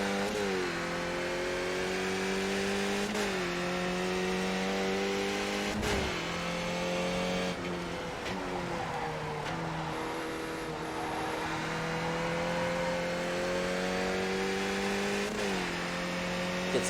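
Race car engine in a sim racing game on a wheel rig, revving hard and steady through repeated upshifts and downshifts, the pitch climbing and dropping for the whole stretch with no talking.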